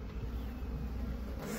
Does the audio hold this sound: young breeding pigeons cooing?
no